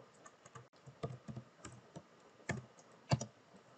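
Computer keyboard typing out code, a run of quick irregular key clicks with a few harder strikes, close and fairly soft, with no voices.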